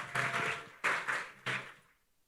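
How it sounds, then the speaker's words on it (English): An audience at the Caribbean Global Awards 2023 ceremony applauds in three fairly loud swells of clapping, each rising sharply and fading out, ending in near quiet. "Give him a round of applause,"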